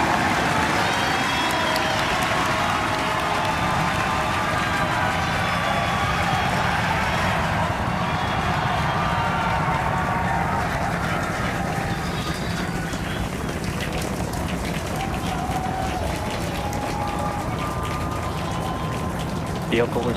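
SpaceX Starship rocket, flight 6, lifting off with a loud, continuous broadband roar that holds steady throughout, dense low rumble mixed with crackling hiss and a faint voice underneath.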